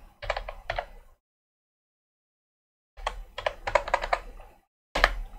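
Someone types on a computer keyboard while running nmap on Kali Linux. The clicks are close and crisp and come in three short bursts, with a silent gap of about two seconds between the first and second bursts.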